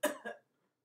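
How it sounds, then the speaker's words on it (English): A person who is choking gives two quick, forceful coughs during a choking first-aid demonstration. The coughs are close and loud, and silence follows them. "Keep coughing"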